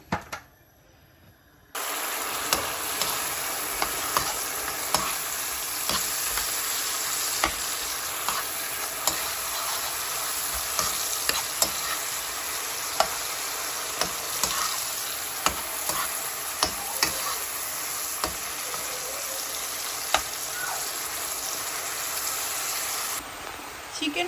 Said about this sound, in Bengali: জাস্ট একটু লবণ আর গোলমরিচে দিয়ে তো আমি এখানে বাটার দিতে পারতাম বাট বাটার দিলাম না একটু করে তেল দিয়ে ভেজে নিচ্ছি